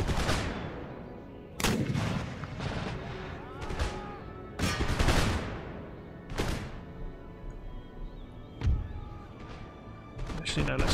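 Artillery cannons firing in the Empire: Total War battle game, a series of loud, spaced booms with crashing impacts over a background of distant musket fire, several heavy blasts in an irregular rhythm.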